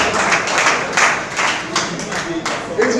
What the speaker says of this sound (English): help me to give another round of applause to DG